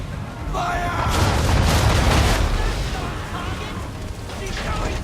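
Ship cannons fire in a naval battle in Assassin's Creed 3, heavy booming blasts that roll together into a sustained, rumbling barrage close by, with shouted voices in the mix.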